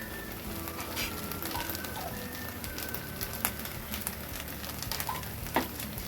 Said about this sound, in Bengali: এবার 2 চামচ ঘি দিয়ে দেবো।